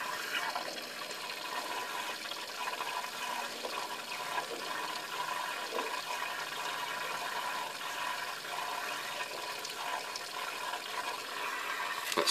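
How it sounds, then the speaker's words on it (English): Water trickles steadily into a water bowl through a leaky float valve, a faint continuous hiss and splash that carries on unchanged without talk. "That's still pumping water in, albeit very slowly, but again it's enough to overflow it."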